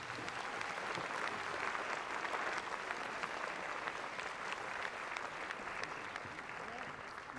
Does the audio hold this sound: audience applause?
yes